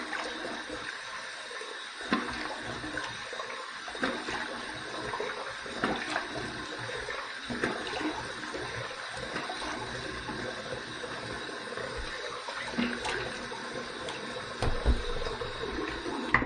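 Water runs into a bathroom sink as it drains and rinses after a shave, a steady soft rushing with faint clinks, fairly quiet and with no talking.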